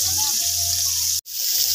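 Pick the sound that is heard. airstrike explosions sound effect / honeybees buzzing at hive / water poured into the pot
water poured into the pot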